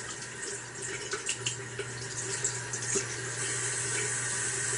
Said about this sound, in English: run it under water.